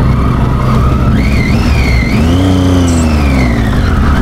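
A Triumph Tiger 800 adventure motorcycle's engine revs hard on an offroad trail, its pitch rising and sweeping up and down, loud and close, then dropping low as it bogs toward a stall.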